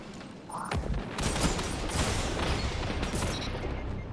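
Duke MK weapon fire in a Destiny match: dense, sustained shooting with rapid sharp reports and a mechanical clatter, loud and steady throughout without talk.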